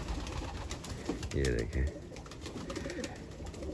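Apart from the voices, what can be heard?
pigeons cooing in a loft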